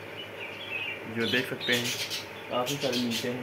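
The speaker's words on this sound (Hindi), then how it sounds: "और ये हमारे बजरी तोते काफ़ी ज़्यादा चहचहा रहे हैं" Caged budgerigars chirp and squawk in busy, overlapping bursts close by, while someone talks over them.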